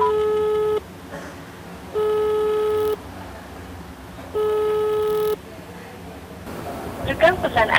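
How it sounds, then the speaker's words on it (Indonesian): A telephone line fails to connect during a news broadcast call, sounding a busy signal: three steady, loud beeps of about a second each, evenly spaced with pauses, followed by faint background noise. "sayang sekali tidak tersambung, belum ada yang kemudian merespon panggilan telepon kami"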